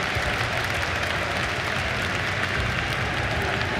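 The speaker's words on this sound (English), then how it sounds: "I can never tell if the crowd is cheering for a pick or if they're cheering for themselves being on screen right there." A large arena crowd at The International 2024 Dota 2 tournament roars and applauds in a dense, steady wash of noise that never lets up.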